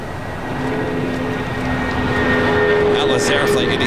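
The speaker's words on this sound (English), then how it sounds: "Atlas Air Flight 8789 coming in from Mexico City, a 747 400 freighter." An Atlas Air Boeing 747-400 freighter arriving at LAX from Mexico City gives a steady, loud jet rumble with a thin whine that builds slightly over a few seconds, with voices talking underneath.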